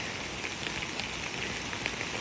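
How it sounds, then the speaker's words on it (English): Steady rain falls through the night over a farm with rising floodwater, a constant soft hiss of drops on surfaces with faint scattered pattering, no voices. "it's been raining literally all night."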